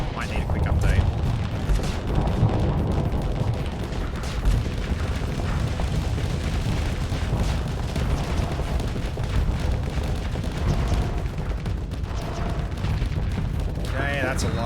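In the Starsector space combat game, a dense barrage of incoming missiles and weapons fire forms a continuous rumbling roar of booms and blasts at steady high loudness, with no clear pauses.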